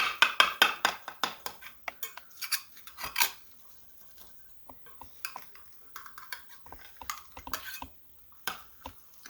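A utensil cuts a corner piece from a baked blueberry banana French toast casserole, making a quick run of close metallic scrapes and clicks against the baking dish, then sparser taps.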